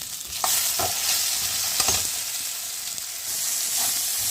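Cumin seeds and two dry red chillies temper in hot oil in a pan, giving a continuous bright sizzle with a few light stirring clicks, close and steady, with no voices.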